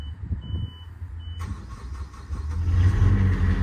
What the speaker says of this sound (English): Press it again, it's going to cycle the glow plugs and then it will start up.